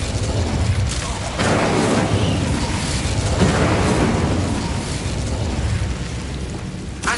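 Incendio fire spell in Hogwarts Legacy, a loud roaring burst of flame with booming, crackling rushes that fill the whole stretch, swelling and fading in waves.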